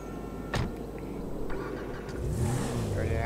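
Franklin's gold sports car driving in GTA 5, a low steady engine rumble with a sharp knock early on and rising revving tones near the end, quite clear.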